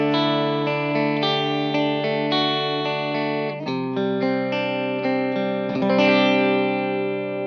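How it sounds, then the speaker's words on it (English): A Sampson-era Matchless C-30 guitar amplifier rings out with sustained chords and arpeggiated notes, clean to lightly driven, with a chord change midway and a fresh strum near the end. "A lot of people think that a matchless C-30 just sounds like this."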